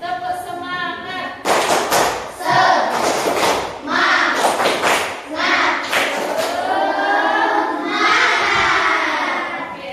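A group of schoolchildren claps in quick rhythmic bursts between shouted lines of a 'tepuk semangat' clapping chant, with a teacher speaking at the start.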